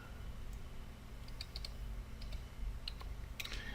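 Quick, light mouse clicks in the UDK level editor, a few scattered taps over a steady low hum, fairly quiet and without speech.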